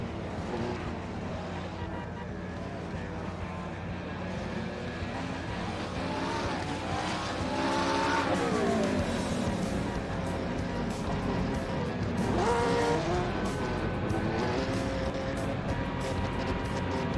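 GT3 race cars from a sim racing game at Misano World Circuit revving and doing burnouts, a sustained engine roar with rising and falling pitch sweeps and tire noise, loud and continuous.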